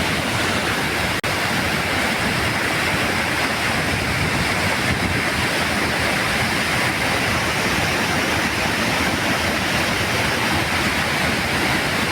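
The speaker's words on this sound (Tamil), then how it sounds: "மணிமுத்தாறு அருவியில் கடும் வெள்ளப்பெருக்கு ஏற்பட்டுள்ளது" The Manimuthar waterfall in Tirunelveli district floods after days of heavy rain, a dense, constant roar of rushing water that stays loud and unbroken throughout, with wind buffeting the microphone and no voices.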